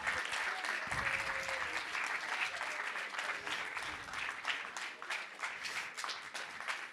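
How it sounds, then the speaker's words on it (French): An audience at a Mémoire en 180 secondes 2025 ceremony applauds the organizing team, a dense, steady wash of clapping from many hands filling the hall for the whole stretch at an even level. "un peu d'applaudissements pour toute l'organisation"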